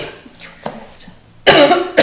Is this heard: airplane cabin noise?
no